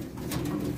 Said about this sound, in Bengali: হ্যাঁ এটা এন্ডোলেজিয়ান হাউস পিজনের বেবি